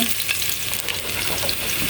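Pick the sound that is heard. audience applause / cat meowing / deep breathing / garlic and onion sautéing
garlic and onion sautéing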